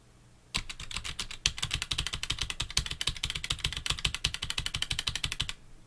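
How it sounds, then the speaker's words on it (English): Rapid, crisp clicking from typing on a Roccat mechanical keyboard with Titan switches and no O-rings, a dense steady run of close keystrokes lasting several seconds with no speech. "let's listen to the switches of the Roccat with their Titan switches"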